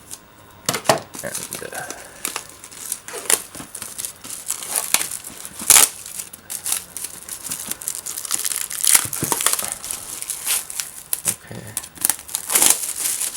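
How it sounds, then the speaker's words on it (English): Loose plastic shrink wrap being cut and peeled off a PS4 game box, giving a run of crinkling, crackling plastic with sharp rustles, close up and fairly steady, with a brief spoken word. "Okay, now let's remove the shrink wrap. So I'm gonna cut from here."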